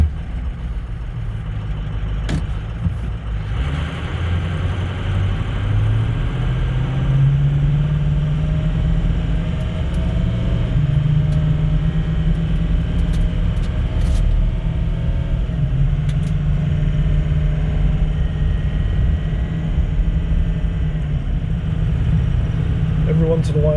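A 2005 Ford Excursion drives smoothly along the road, its engine and tyre rumble holding steady and close throughout, with a low drone that rises and falls gently as it rolls on.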